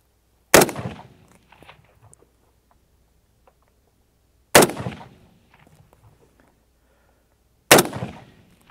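Three loud, sharp M1 Garand rifle shots fired at a 300-yard target ring out one at a time, several seconds apart, each cracking hard and then trailing off in a short echoing decay across an open range.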